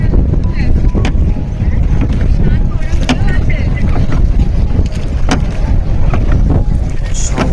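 Boat ride on a river during the Maha Kumbh in West Bengal, with steady broadband water and wind rush throughout, occasional knocks and splashes, and indistinct voices mixed in.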